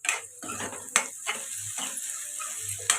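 Onions and curry leaves fry in a hot pan for a dhaba-style matar paneer masala, a steady close sizzle broken by a few sharp scraping stirs of the spatula, with no voices.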